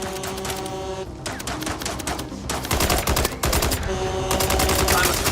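Rapid automatic gunfire in the MindsEye video game while shooting robots, dense rattling bursts with brief pauses, loud and close throughout.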